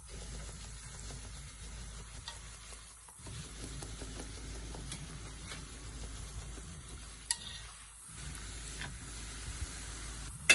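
Salbutes frying in hot oil, a soft continuous bubbling sizzle at moderate distance, briefly dipping twice as the pieces are flipped, with a few light clicks.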